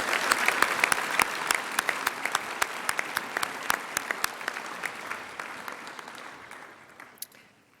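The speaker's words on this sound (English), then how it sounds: "Let's give Marin a round of applause." Audience applause at a school senior prizegiving, steady clapping from a hall full of people that gradually thins and fades toward the end.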